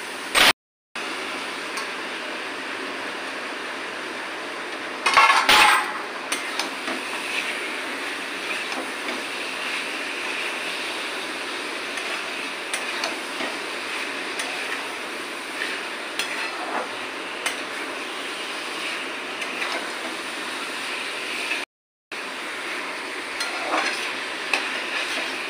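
Chicken pieces stir-fried with spices in a pan for a restaurant-style masala chicken, giving a steady broadband sizzle with scraping stirs and a louder clatter of the utensil early on, alone throughout with two brief dropouts.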